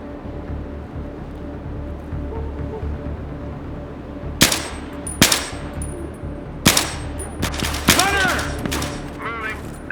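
Gunfire in the video game Battlefield 3 during co-op play: several sharp, loud shots with metallic ringing clangs ring out over a steady background rumble, the later ones clustered in quick succession.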